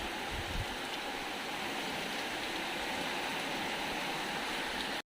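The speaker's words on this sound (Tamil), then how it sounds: "நல்லா மழை பெஞ்சிட்ருக்கு" Heavy rain pours down on a dark, windy early evening, a steady dense roar that fills the whole stretch without a break.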